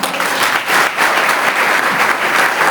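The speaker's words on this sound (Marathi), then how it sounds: "सद्गुरु अमृतेश्वर शिवाचार्य महाराज की सगळ्यांनी जोरदार टाळ्या वाजवा" A dense, loud wash of audience applause for Sadguru Amriteshwar Shivacharya Maharaj at a devotional gathering, many hands clapping together steadily throughout with no voices over it.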